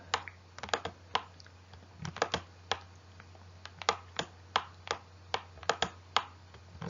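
Typing on a computer keyboard, a series of distinct, fairly close key clicks in irregular bursts over a quiet background.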